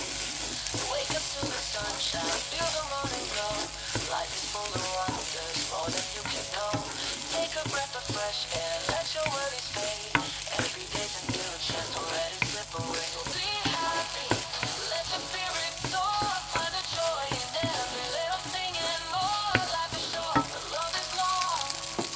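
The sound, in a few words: stir-frying fried rice with dark soy sauce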